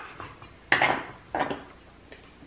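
Silverware and dishes clink together in a home kitchen while steak is prepared for a barbecue. Two sharp, bright clattering bursts ring out close by, followed by fainter scattered chinks.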